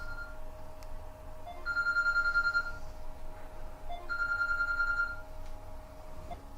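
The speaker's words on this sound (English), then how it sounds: "I just powered my phone off, so that's not going to disturb me anymore" A mobile phone rings in a workshop with two bursts of a steady electronic tone, moderately loud over a constant mechanical hum, with no talk.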